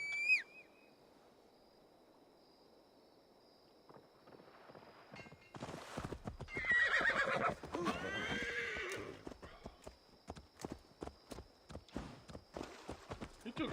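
In Assassin's Creed Valhalla, a horse whinnies and its hooves clip-clop in a steady walking rhythm, with game ambience around it and a few faint voice-like sounds.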